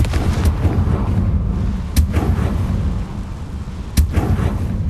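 Confringo blasting spells explode in Hogwarts Legacy, three loud booming blasts about two seconds apart over a low rumbling game background.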